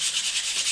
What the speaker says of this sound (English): And just sand away.